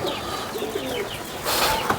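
A Salara pigeon kept at home gives soft, low cooing calls close by in a quiet setting, with a brief rustle of movement toward the end.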